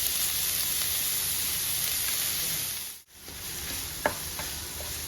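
Chopped ginger frying in a pan for Kerala puli inji gives a steady, even sizzle throughout, with a brief dip partway and a few light clinks of stirring near the end.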